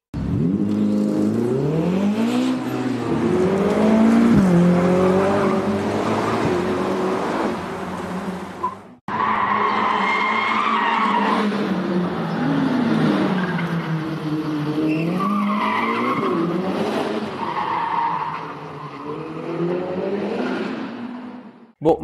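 A race car is driven hard through the streets of Monaco for a film shoot, its engine roaring loud and close with revving, shifting pitch and tire squeal, steady for the whole span apart from one brief break.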